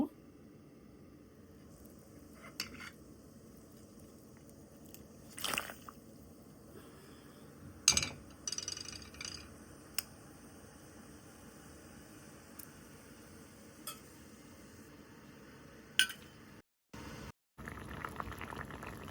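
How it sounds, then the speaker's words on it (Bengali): A sour dish of elephant apple (chalta) and radish with jaggery bubbles softly as it boils in a pot, a faint low simmer with a few light clinks and drips. "মূলটা বেশ টক করে ফুটতেছে"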